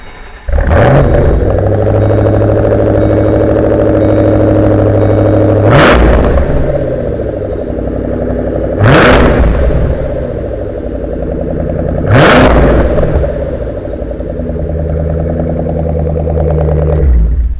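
A parked car's engine idles with a deep rumble, then is revved to 3,000 RPM in sharp blips that each rise to a roaring peak and fall back, loud and close, with no talking.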